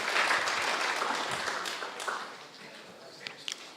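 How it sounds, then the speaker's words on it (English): Audience applause for a guest at a sponsor talk during a programming contest event, a broad steady patter of many hands that gradually thins out and fades, with a few last scattered claps near the end. "let's applaud the guest"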